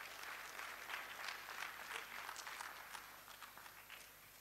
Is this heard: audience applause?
yes